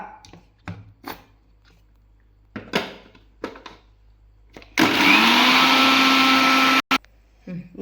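A kitchen blender whirs loudly and steadily for about two seconds while beating homemade mayonnaise with sunflower oil, then cuts off abruptly and gives one short final burst, after intermittent clicks and handling noises.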